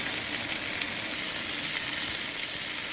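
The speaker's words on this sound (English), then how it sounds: "While these are sizzling up" Steady, close sizzling and crackling of sausages cooking on a hot grill, continuous and even throughout with no talking.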